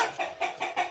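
A chicken clucks close by in four quick, evenly spaced bursts within a second, loud and clear with no talk.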